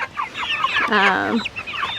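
Several young meat chickens cluck and chatter nearby, a busy overlapping stream of short calls with one louder, drawn-out squawk in the middle.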